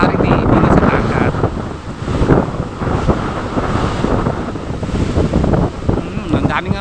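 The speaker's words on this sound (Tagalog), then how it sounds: "Malakas pa ang hangin, tapagat pa nga rin dito sa dagat." Strong wind buffeting the microphone by a rough sea, with waves surging and crashing in a constant heavy roar that rises and falls across the whole stretch.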